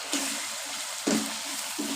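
Spice masala with salt and cumin powder fries in a pan for a mix vegetable curry, a soft steady sizzle punctuated by a few brief stirring scrapes.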